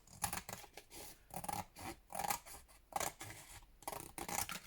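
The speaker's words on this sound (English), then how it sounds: "what I'm going to do is I'm going to cut down the side" Scissors slice down the side of a household cardboard box in a quick series of crisp, rhythmic snips and scrapes, close and fairly quiet, with no talking.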